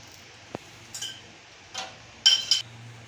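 Fried cashews are moved from a pan into a dish for khapli wheat kheer, giving a few sharp metallic clinks and taps of a spoon against cookware in an otherwise quiet kitchen.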